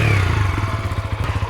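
An Orval Sirio 125 motorcycle revs loudly close by, its engine pulsing in a steady rapid throb that sinks in pitch after a brief high whine, with a few clattering mechanical knocks and no talk.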